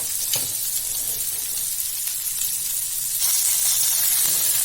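Prawns frying on a flat iron tawa give a loud, steady sizzle with a bright hissing spread that runs unbroken throughout, close up, with a brief scrape near the start and no talking.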